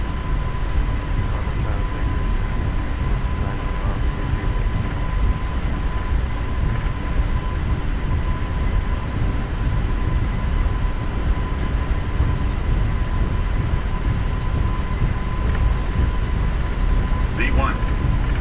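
Boeing 777-300ER rolling down the runway for takeoff in Microsoft Flight Simulator with the PMDG add-on at Toronto: a steady, loud engine roar and rumble with a faint whine, continuous and unchanging throughout.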